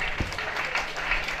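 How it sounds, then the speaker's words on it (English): An audience claps at a college's 80th anniversary ceremony, giving a steady, dense patter of applause that holds at an even level for a moment with faint voices underneath. "Please a round of applause for all of us."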